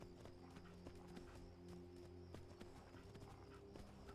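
Horse hooves clip-clopping in the video game Skyrim, a steady rhythmic trot of many hoof beats over a constant background drone, fairly close and clear, with no one talking.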